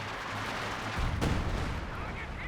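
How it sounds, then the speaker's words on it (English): British artillery fire in the Company of Heroes 2 battle game: one heavy boom lands midway through a steady rumbling din of distant combat. "British artillery coming in."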